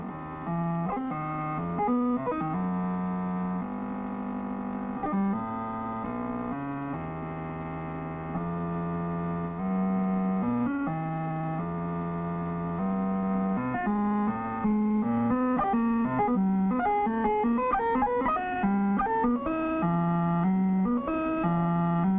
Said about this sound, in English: we will hear sounds which are an actual product of a huge calculator